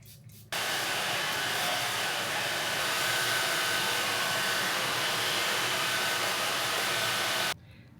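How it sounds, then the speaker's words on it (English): A hair dryer blow-drying hair starts abruptly and runs as a steady, loud, breathy roar for about seven seconds, then cuts off sharply, with no talking. "I'm going to go blow dry my hair"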